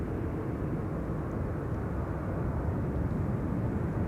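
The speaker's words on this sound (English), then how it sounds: "We can see a Delta A330 in the background taking off" A Delta Airbus A330 takes off at Amsterdam Schiphol, producing a broad, steady roar of jet engines that holds at constant loudness throughout, heard at a distance without talk.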